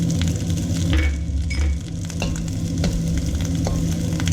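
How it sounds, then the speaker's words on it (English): Garlic frying in butter in a wok for Japanese-style garlic fried rice: a steady, close, hissing sizzle runs throughout, with faint scraping and clinks from stirring. "we're going to add the garlic into that butter"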